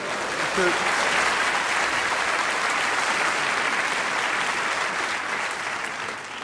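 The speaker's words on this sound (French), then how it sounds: "Applaudissez pas trop, ils vont couper chez vous." Comedy-show audience applauding in a theatre, a loud, dense, even wash of clapping that holds steady for several seconds before easing slightly, with a brief voice at the start.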